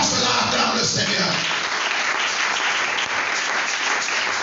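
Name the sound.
congregation applauding and cheering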